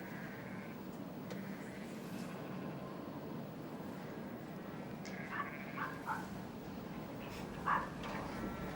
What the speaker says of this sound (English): Dogs seem to enjoy the snow